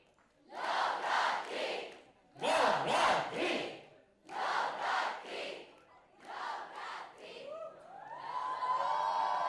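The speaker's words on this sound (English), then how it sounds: "Guys, can I have a cheer?" A college audience at a film promotion event cheers and whoops loudly in four or five surging bursts with short pauses between them. A voice speaks over the final stretch.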